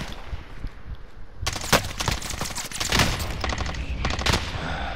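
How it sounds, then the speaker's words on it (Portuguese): Rapid automatic gunfire in a Call of Duty: Modern Warfare battle royale match rattles in close, loud bursts after a quieter opening, with overlapping shots from several directions. "Tem um monte me atirando. Um monte."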